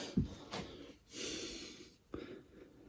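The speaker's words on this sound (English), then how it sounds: "Sorry about the heavy breathing." Heavy, close breathing with sharp snorting exhales and longer rushing breaths, fairly quiet, no talking.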